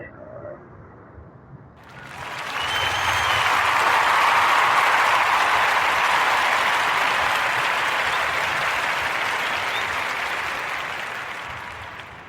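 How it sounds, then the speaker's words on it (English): Applause for podcast guests swells in after a brief quieter start, building into a thick, sustained wash of clapping that holds steady and loud before slowly tapering near the end. "Give a warm narrative podcast round of applause for Chelsea Carter Sanders and the Carter brand."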